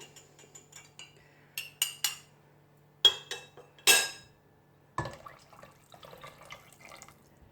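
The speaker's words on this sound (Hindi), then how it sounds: "तो यहाँ पे मैंने 1 कप मटन की यखनी है मेरे पास, तो वो भी मैं इसमें ऐड कर लेती हूँ।" Mutton stock is added to a pot of chicken soup: scattered clinks and taps of utensils give way to a short splashing pour and a trail of light drips and clatter.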